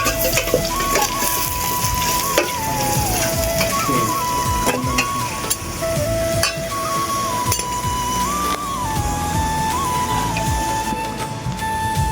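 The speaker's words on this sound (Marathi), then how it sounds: "कांदा शिजून घेऊ. लाल करून घेऊ कांद्याने." Onions fry in a pan for a village-style spicy chicken dish, making a continuous dense crackling sizzle with occasional clinks of a utensil and no voices.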